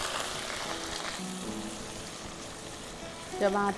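Garlic paste and chopped tomato hit hot oil in a home kitchen pan, giving a soft, steady sizzle and crackle with faint stirring, and a brief clink of a utensil near the end.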